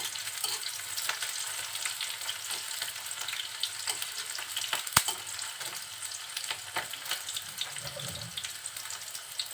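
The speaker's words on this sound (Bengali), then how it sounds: "পেঁয়াজ আর ঝালটা একটু নাড়াচাড়া করে" Onion and chili stirred and frying in a pan for potato and pointed gourd bhaji, a steady close sizzle with scraping spoon strokes and a sharp clack near the middle, no voices.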